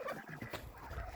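A rooster on a farm being wrangled, giving a short, faint gobbling, fowl-like call and ruffling sounds close by, with no talk.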